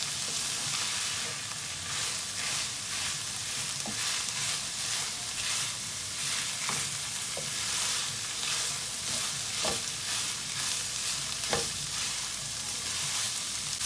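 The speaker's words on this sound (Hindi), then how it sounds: "यहाँ पर मैं इसे मसालों के साथ 2 से 3 मिनट हो चुके हैं भूनते हुए।" Minced meat (qeema) fries with spices in a pan, holding a steady, busy sizzle throughout, broken by occasional sharp spoon taps and scrapes against the pan, close and even in level, with no voices.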